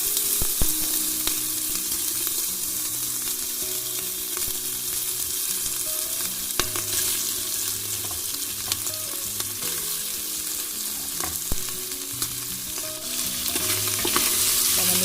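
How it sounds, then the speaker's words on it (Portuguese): Sausage and bacon fry in a little hot oil for a bean dish, a loud continuous close sizzle with occasional clicks and scrapes of stirring, no voices. "A gente vai fritar a linguiça e o bacon."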